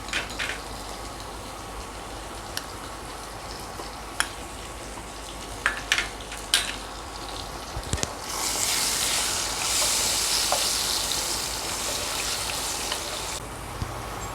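Potatoes frying in oil with salt and turmeric, a steady soft sizzle broken by a few sharp clinks of stirring, then swelling into a louder, brighter crackle toward the end.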